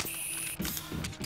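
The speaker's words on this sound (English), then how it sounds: "pulling out my guns" Guns being drawn in the video game Mass Effect give a brief, close burst of mechanical clicks and metallic ratcheting, heard alone.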